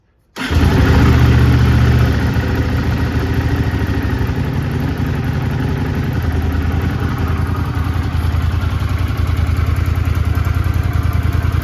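A 1982 Honda GL500 Silverwing motorcycle engine cold-starts abruptly from silence, then settles into a loud, steady, throbbing idle close by.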